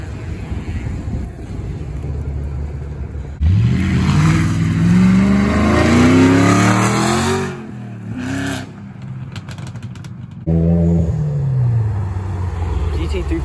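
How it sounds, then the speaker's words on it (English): A Nissan GT-R revving and pulling away from a cars-and-coffee meet in Tampa, the engine climbing through rising revs with a gear change, fading briefly, then surging again, loud and close with wind buffeting and voices nearby. "We got the GTR pulling out"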